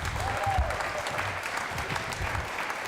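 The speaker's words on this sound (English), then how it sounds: "A round of applause for our very small but" Applause from the audience at a college student fashion show, a fairly quiet and even patter of clapping that continues throughout, with low room rumble underneath.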